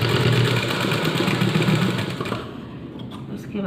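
A sewing machine double-stitches a kurti's shoulder seam, a steady, close, continuous motor whir with rapid needle chatter that fades slightly toward the end.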